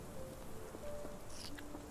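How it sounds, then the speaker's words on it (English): Dreary rain falls in Sherlock Holmes: The Awakened, a soft, steady patter with faint hiss throughout, accompanied by quiet scattered tones and light clicks. "This dreary rain is making a miserable day even worse."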